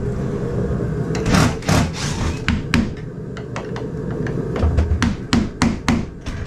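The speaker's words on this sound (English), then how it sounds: "Probably just hit it with a hammer and bang it in." Sharp hammer blows driving a screw into a wooden mobile home bathroom floor, irregular knocks in short bursts with a low background hum between hits.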